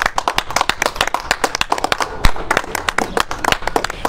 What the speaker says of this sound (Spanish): un gran aplauso a los albañiles en su día